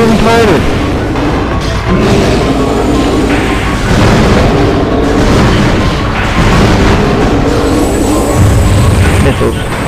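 Missiles firing and blowing up in Metroid Prime, a dense, loud run of booms and bursts that carries steadily through the whole stretch amid game music and effects.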